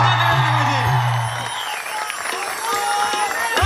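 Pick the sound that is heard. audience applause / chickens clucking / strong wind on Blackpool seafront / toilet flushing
audience applause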